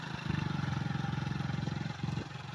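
A motorcycle runs at a steady pace near the fishing harbour at Talsari in Odisha, its engine putting out a continuous low throbbing drone close to the listener.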